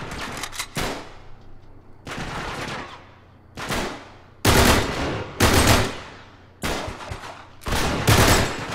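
Gunfire in the game Uncharted 3: loud, close volleys of shots in separate bursts with short gaps between them, each ringing out with a sharp crack and decaying echo.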